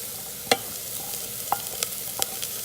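Chopped onion fries in a pan for dal fry, a soft steady sizzle broken by a few sharp clicks and scrapes of a utensil stirring.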